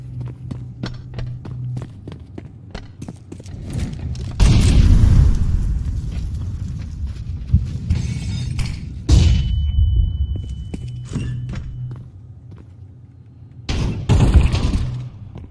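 Gunfire in the video game Counter-Strike 2: three heavy, booming bursts a few seconds apart, with lighter rapid ticking and clatter between them and no talking.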